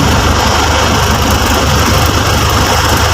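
An Isuzu 4JA1 diesel engine runs loud and close with a steady idling rumble and vibration. The gears refuse to engage while it is running.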